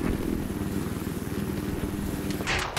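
A helicopter in the shooter Battlefield 4 throbs with a steady, pulsing low rotor chop and engine roar that fills the whole stretch, with a brief higher whoosh near the end.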